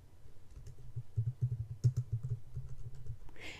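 Keys clatter on a computer keyboard as a title is typed, a quick, steady run of close, moderately loud clicks with a couple of brief pauses and no voices.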